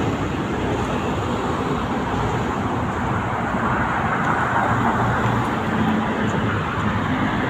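A car heads along C5 toward the expressway service road in Parañaque, with a steady, loud rumble of engine and road noise from inside the cabin throughout.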